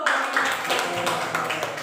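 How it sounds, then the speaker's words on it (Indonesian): A classroom of students gives a round of applause at the end of a lesson at an Islamic high school, dense steady clapping that starts abruptly and continues evenly, close and moderately loud. "Kasih tepuk tangan untuk kita semua dulu."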